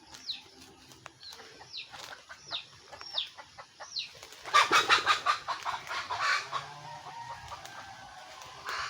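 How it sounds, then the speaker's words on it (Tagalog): Farm chickens cluck and squabble on a hillside, a string of short repeated calls building into a louder, busy flurry of clucking and squawks, moderately close with no talking. "Nagtalo na yung manok."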